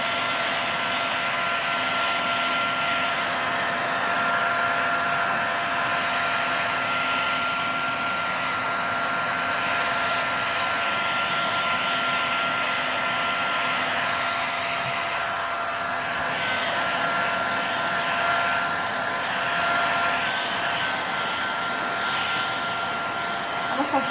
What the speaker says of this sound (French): Mon décapeur thermique est un peu vieux.